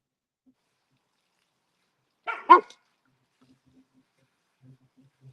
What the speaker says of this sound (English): I hear the puppy